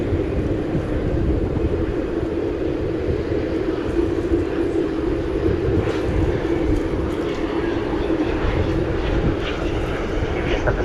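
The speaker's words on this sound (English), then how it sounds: "a long distance look at the A380 as it goes out from runway 17 right tonight" An Airbus A380 departs runway 17 right at night at DFW Airport, its engines giving a steady, distant low roar that holds evenly throughout over broad rumbling noise.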